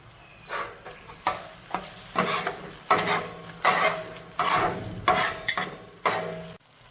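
Masala with crushed red chilli fries on a tawa, its hiss rising with each of about a dozen rhythmic spatula strokes, close and fairly loud, with no speech.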